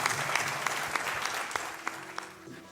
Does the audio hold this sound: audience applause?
yes